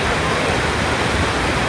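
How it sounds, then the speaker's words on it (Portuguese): Water gushes at a water park ride feature triggered by a Tapu Tapu wristband, a loud, dense, continuous rushing spray close by, with voices mixed into the roar. "Ele tá ativando aquela água no brinquedo ali"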